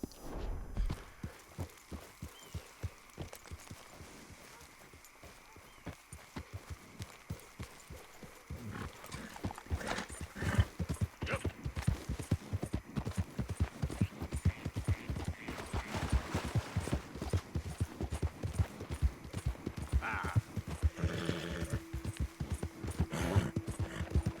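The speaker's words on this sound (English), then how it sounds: "El caballo está tonto." A horse's hooves clip-clop in Red Dead Redemption 2, first in a quick run of steps, then easing off before picking up again into a dense, brisk, close rhythm lasting to the end.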